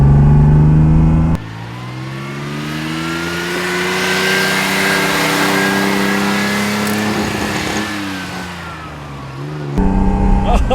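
A 1973 Ferrari Dino 246 GT in Forza revs its engine loudly, climbing and holding a strained, rising howl through the middle before easing off, with brief bursts of louder engine noise at the start and end.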